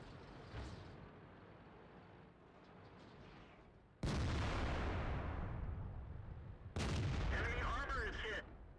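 Tank cannon shots in World of Tanks, with a Panther firing flank shots at a T-54E1 and KV-5: two sudden heavy booms, each leaving a loud rumbling tail, the second topped with whining mechanical effects.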